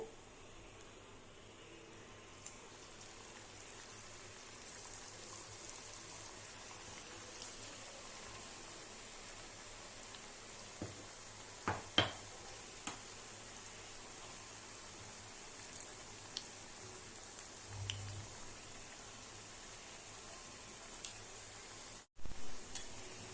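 Curry leaf and amla thenkuzhal murukku dough sizzles steadily in hot oil, a soft, even hiss broken by a few small crackles and pops, with no talking.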